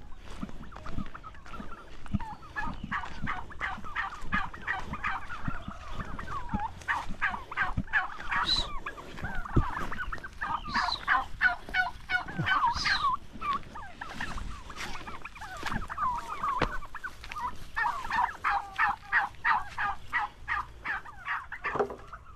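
A flock of turkeys gobbles over and over in rapid, warbling bursts, some birds close and some farther off, with no talk over them.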